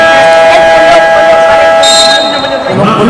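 Loud, constant crowd noise of supporters filling a university gymnasium at a basketball game between the Shepherdville Rams and Ateneo Golden Knights, a dense roar with whistle-like tones over it and a voice talking on top.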